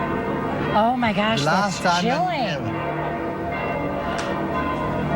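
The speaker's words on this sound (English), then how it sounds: "all the bells of St. Peter's" Church bells of St. Peter's at the Vatican ringing on the day of the papal resignation, soft, sustained tolling heard beneath excited voices talking over them.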